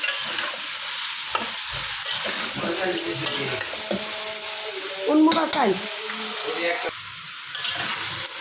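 Chopped vegetables fry in a hot wok (kadai) with a steady close sizzle and occasional stirring scrapes, while faint voices murmur in the background.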